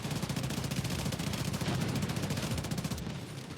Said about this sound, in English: Those little rockets. that just almost killed me.